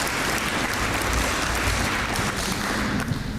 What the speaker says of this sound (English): Can we give a round of applause to these students, the staff of Kaynor Tech, and everybody that made this day possible?